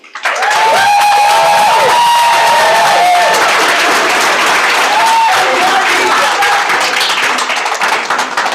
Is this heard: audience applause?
yes